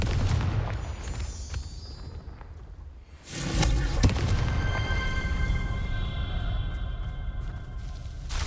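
A Confringo fire spell explodes in the Hogwarts Legacy video game as a dull, booming burst around the middle, followed by a crackling, ringing magical tail over a constant rumbling game backdrop.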